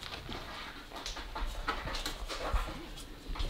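Seven young sled-dog puppies whimper and pant close by in a continuous, busy mix of soft whines and breathy huffs, with no clear speech.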